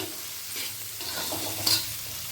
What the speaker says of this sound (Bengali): পেঁয়াজ কুচি আর ক্যাপসিকাম কুচি এই দুটোকে দিয়েও ভেজে নেব রসুন আর আদার সঙ্গে